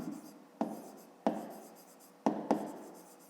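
A pen writing on paper while working a fifth-grade maths exercise, heard as four sharp, close strokes or taps spaced irregularly, each trailing off into soft scratching, with no talk.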